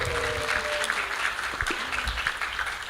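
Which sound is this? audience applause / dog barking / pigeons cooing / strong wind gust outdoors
audience applause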